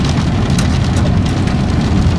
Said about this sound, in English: Frickin' rain on the windshield window.